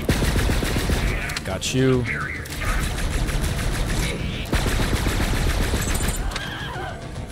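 Gunfire from a gun in the Borderlands 3 video game rattles in rapid bursts at close range, with a high whinnying effect briefly cutting in and a voice speaking over the shooting.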